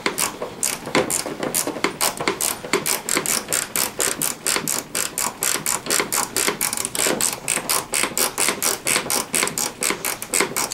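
A hand ratchet clicks steadily and close while tightening an assembly bolt on a Tao Tao 50 T3 scooter, with a fast, even run of sharp mechanical clicks and swings lasting throughout, no voices.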